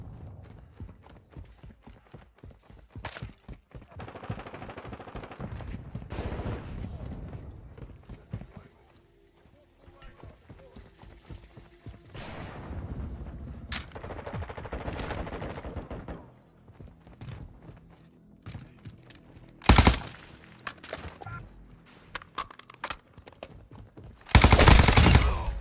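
Gunfire in Call of Duty Modern Warfare 2, with bursts of rapid shots and scattered single cracks across a busy game soundscape, plus a few loud sudden blasts.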